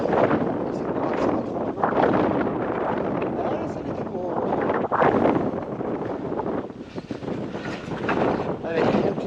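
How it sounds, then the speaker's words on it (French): Strong wind buffets the microphone during a mountain bike ride, a loud, steady roar that swells and dips continuously with no clear breaks. "J'ai le vent qui est derrière moi là."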